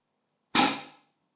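A single sharp air burst from the valves of a 3D-printed vortex ring launcher, a sudden loud whoosh-pop that fades within half a second, alone in silence.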